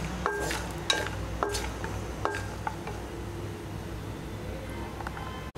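Almonds and pistachios fry in a pan for panjiri, with a soft sizzle under repeated clicks and scrapes of stirring, close and moderately loud.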